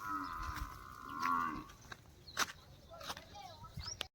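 Moos from a Jafrabadi buffalo at a farm shed, a long low call early on and a second shorter one, with chirping birds, scattered rustles and faint background talk.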